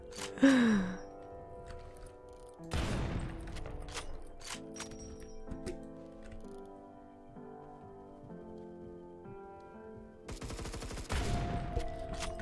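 Gunshots from a light machine gun and a sniper rifle in the Roblox shooter Phantom Forces: a loud crack near the start, another burst around three seconds, and a dense rapid volley near the end, with game music and effects running between them.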